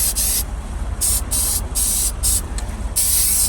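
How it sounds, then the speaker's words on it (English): An aerosol can sprays a light, even blending coat of paint over a GMC Acadia hatch during a scratch repair, in four or five close bursts of hiss separated by short quiet gaps. "I'm going to put one more light coat over the whole thing, blending it out nice and even."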